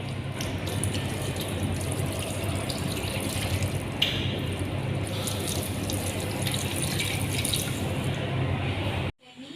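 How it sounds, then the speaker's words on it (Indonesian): Hands rinsed under a running tap during handwashing: a steady, close rush of water that lasts several seconds and cuts off abruptly at the end. "Kemudian membasahi dengan air."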